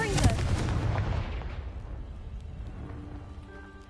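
Confringo blast spell cast in Hogwarts Legacy at a pile blocking a stairwell: a loud booming explosion that rumbles and slowly fades out over a few seconds.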